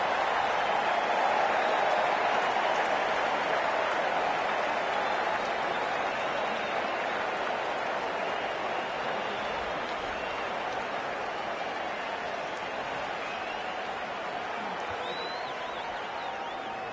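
A crowd in a virtual cricket video game applauds and cheers in a steady, even wash of clapping that fades slowly over many seconds, with no talk over it.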